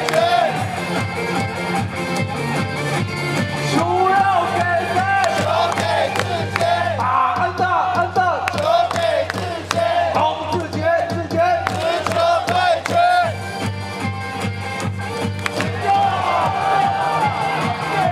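A baseball stadium crowd at a Taiwanese professional game chants and shouts in unison in answer to a cheerleader, with rhythmic calls and cheers over loud music. Voices rise in waves throughout.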